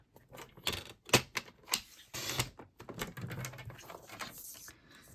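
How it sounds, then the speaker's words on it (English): A paper trimmer slicing cardstock scraps for a cookie gift wrapper, several dry sliding cuts and clicks in uneven bursts, close and fairly clear with no voices. "Let me bring my paper trimmer in."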